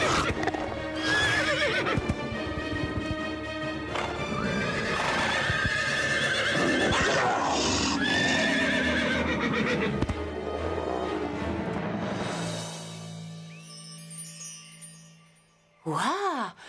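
Cartoon horses from Horseland neigh and whinny over a busy animated soundtrack, with clip-clopping hooves mixed in, loud and continuous before fading near the end to a low tone and a final brief burst.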